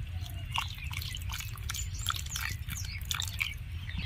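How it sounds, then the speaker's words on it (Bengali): A splash of water poured into a thick vegetable paratha batter, with close, small wet drips and slurpy liquid sounds over a low background rumble. "তাই একটু আমি জল দিয়ে দিব।"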